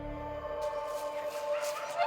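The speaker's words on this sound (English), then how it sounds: "One of the volunteers has to take a dog urgently to the clinic." A dog at an elephant sanctuary's veterinary clinic gives a short run of whimpers and yips, fairly close and moderately loud, with brief background voices mixed in.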